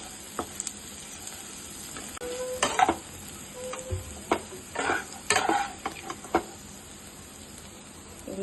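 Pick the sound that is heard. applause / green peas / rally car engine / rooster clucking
green peas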